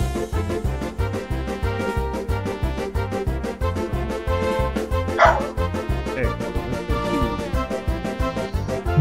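A dog barks in quick repeated yips and bow-wows, loud and near, over a steady rhythmic musical background, with no talk.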